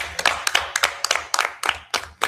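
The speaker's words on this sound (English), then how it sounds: "I have to clap on that one." One person clapping alone at a mayor and aldermen board meeting, about a dozen sharp, close claps in a quick uneven rhythm with no talk over them.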